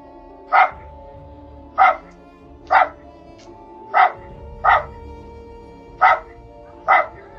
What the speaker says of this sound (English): is Cody the dog in the background barking his ass off?